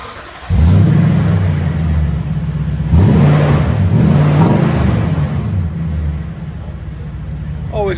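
Toyota Tundra with a 5.7L V8 and MagnaFlow aftermarket exhaust, 3.5 by 18 rolled-edge tips, idling with a deep rumble then revving up in loud swells, close by, with faint voices in the background.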